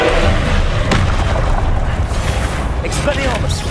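A heavy, rumbling magical blast from the Confringo spell in Hogwarts Legacy, loud and close, with a thudding burst near the start that spreads into a dense roar, mixed with game effects and a voice.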